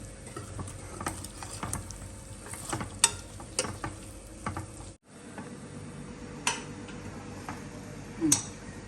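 Masala frying in a pressure cooker, a steady close sizzle with occasional metallic scrapes and clinks of stirring throughout.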